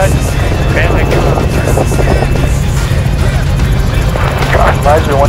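Loud, continuous thumping drone of a nearby helicopter rotor and engine during a Saint John, New Brunswick production shoot, with radio-like voices breaking through over it.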